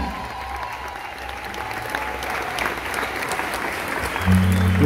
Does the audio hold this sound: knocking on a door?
no